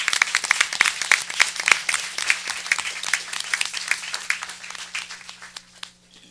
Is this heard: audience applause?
yes